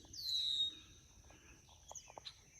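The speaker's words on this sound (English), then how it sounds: "And I hear those red-winged blackbirds." Red-winged blackbirds give a single clear call with a sliding whistle, followed by a few faint, brief chirps in a quiet outdoor setting.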